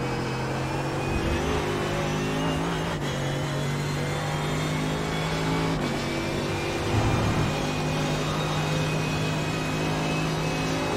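A Mercedes AMG GT3 lapping Watkins Glen in iRacing holds a loud, sustained engine drone near full power, with a couple of quick gear shifts and slight pitch changes through corners, heard alone without talk.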